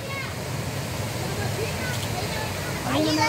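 A stream current flows with a steady, close rushing wash of water, continuous throughout, with faint voices rising briefly near the end.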